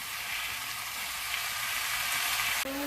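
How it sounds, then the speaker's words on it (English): Food searing in a hot pan, a loud continuous close sizzle that holds steady before a brief knock near the end, no voices. "We're going to let this side sear"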